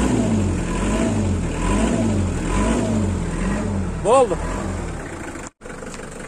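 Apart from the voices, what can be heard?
Hyundai Porter truck engine running and revving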